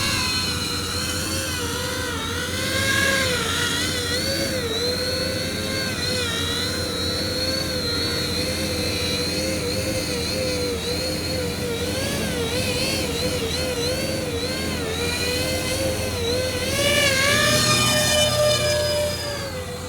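An E-Flite EC-1500 twin-motor 1.5 m electric RC airplane flies over a small soccer field, its high whining motors holding a steady pitch that sweeps up and down as it maneuvers, with a louder pass near the end.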